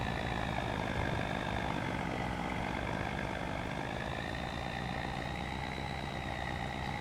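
Underpowered tractor hauling a loaded trailer in Farming Simulator 25, a continuous loud engine drone with a strained, slowly rising whine held steadily throughout, no voices.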